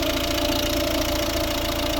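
A 1.6-litre diesel engine of a 2011 Volvo V60 D2 runs steadily at idle, close to the microphone, with an even, continuous drone and no talk.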